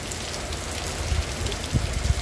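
Heavy rain pours steadily during a Sunday downpour in Santana do Ipanema, Alagoas, a dense, continuous hiss with a few louder low thumps of drops landing on surfaces nearby.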